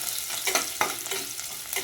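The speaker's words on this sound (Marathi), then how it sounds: "छान कांदा मिरची फोडणी" Hot oil sizzling loudly as onion and chili fry in a pan, with occasional stirring scrapes, up close.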